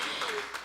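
A church congregation breaks into a brief burst of applause, a dense wash of many hands clapping that is cut off after a moment.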